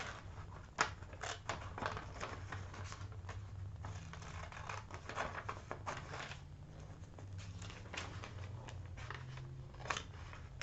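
Scissors snipping paper while working in a junk journal, a string of short crisp cuts and rustles spread through the stretch with steady low hum beneath.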